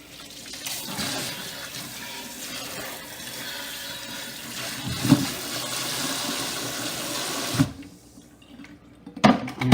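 Water runs steadily over a Philips air fryer basket being washed with soap in a sink, a continuous rushing stream with a few knocks of the basket before the flow stops near the end.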